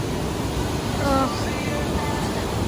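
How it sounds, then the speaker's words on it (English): Fall Creek Falls waterfall in Tennessee, a dense, steady roar of rushing water heard up close, filling the whole clip with a constant wash of noise. "I can touch the waterfall."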